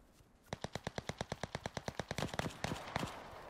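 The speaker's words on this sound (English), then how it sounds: "Somebody else shot at them, right?" Automatic gunfire in the online shooter game Cuisine Royale, a rapid evenly spaced burst of about twenty sharp shots, close and loud, followed by further scattered fire.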